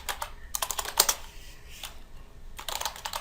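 Computer keyboard typed on while writing Java code, quick bursts of crisp key clicks in irregular clusters with short pauses between, close and fairly clear, no voice.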